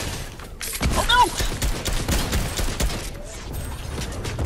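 Rapid bursts of video game gunfire in a Zone Wars match crackle and pop continuously, loud and close, with a player's voice talking over the shots.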